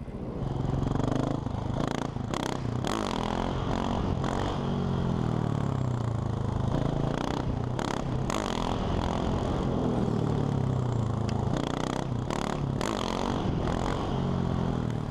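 A motorcycle engine runs loud and steady close by during a wheelie, its throttle raised slightly while the rear brake is applied, the engine drone rising and falling with no talk over it.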